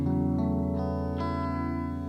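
An electric guitar runs through the Overloud TH3 amp simulator on a JC120 head with chorus, phaser, digital delay, compressor and plate reverb, sounding as sustained shimmering chords that change a few times, ringing and lush with no talking.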